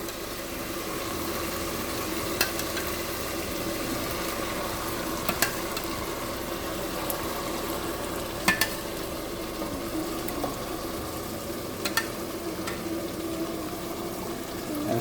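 Homemade tomato puree with garam masala sizzles and fries in a pan for pasta, a steady low hiss with occasional sharp pops and utensil clicks throughout.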